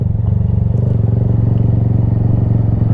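A motorcycle running in second gear while the rider learns to ride, a loud, steady low engine drone with a rapid pulsing beat and no audible shift.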